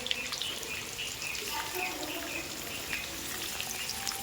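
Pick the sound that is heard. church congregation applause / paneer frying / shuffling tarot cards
paneer frying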